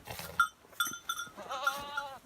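A female Anglo-Nubian goat on a homestead bleats several times in short, wavering, nasal calls with brief pauses between them, close and fairly clear.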